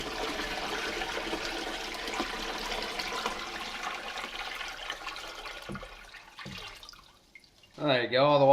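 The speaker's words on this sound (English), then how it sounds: "I'm just gonna put the water into the fish tank" Water is poured into a fish tank in a steady, fairly loud rush that lasts about seven seconds, then tapers off with a couple of faint splashes before a voice speaks at the end.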